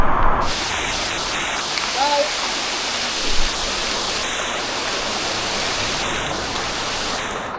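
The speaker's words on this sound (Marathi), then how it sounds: "हा एकदम दरीच आहे धबधबा" A waterfall in a valley near Shahapur, by Dhenganmal village, roars with a loud, steady rushing wash that runs unbroken from start to end, with a few faint higher chirps above it.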